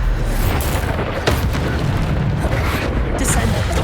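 A Bombarda spell explodes in Hogwarts Legacy on Xbox, giving a loud, dense, rumbling boom that holds steady throughout with layered crackling bursts on top.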